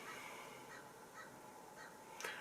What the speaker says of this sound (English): Now there's a crow.